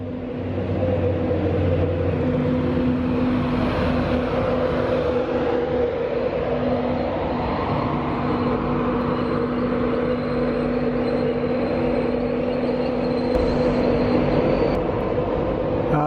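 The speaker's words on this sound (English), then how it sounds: "This train's being held up by the one going to Leeds, which is just leaving the platform" A train bound for Leeds pulling out of a station platform on the way to Newcastle, a steady low rumble and engine drone with a sustained tonal hum, growing and holding throughout, near and fairly loud.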